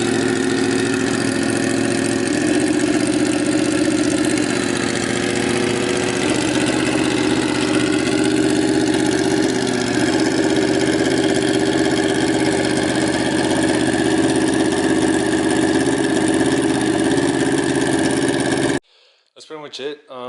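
A 1994 Honda VFR750 motorcycle with its stock exhaust idles loudly and close up, a steady, even engine drone held for almost twenty seconds before it cuts off abruptly.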